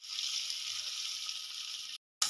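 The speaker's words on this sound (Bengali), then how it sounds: "এই তেলে সিদ্ধ করা আলুগুলো একটু লাল লাল করে ভেজে নেব" Boiled potatoes frying in oil in a pan give a steady, bright sizzle that holds evenly, then cuts out abruptly and briefly returns.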